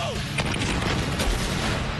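Pyrotechnic shells bursting in a dense, continuous barrage of booms and crackles, loud and close, with overlapping explosions filling the whole stretch.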